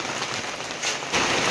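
Heavy rain pours down in a cyclone, a dense, steady hiss of drops on surfaces that swells louder toward the end, with no voices.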